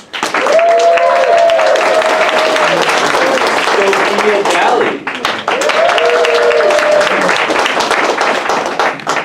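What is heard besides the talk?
audience applause and cheering as student poets come on stage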